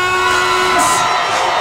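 A Latin pop concert crowd from Guatemala yells and whoops loudly at once, a dense sustained roar of cheering voices that fills the space from start to finish.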